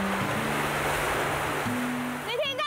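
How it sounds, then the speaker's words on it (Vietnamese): Sea waves washing against a harbour, a steady broadband surf roar that fills the clip, with a faint low hum running beneath and a brief rising whistle near the end. "Tiếng sóng của bổn cảng."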